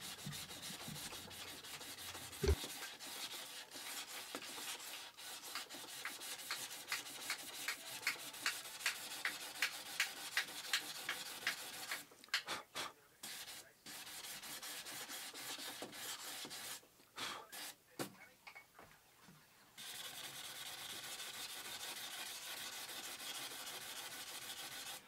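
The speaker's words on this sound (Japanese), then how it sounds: "当て木を使うことでペーパーと木が当たっているところに力が集中してうまく削ることができます。" Sandpaper on a backing block is rubbed by hand across wood while building a PC desk, in a series of steady rhythmic strokes. It pauses and shifts partway through, then ends in an even scraping.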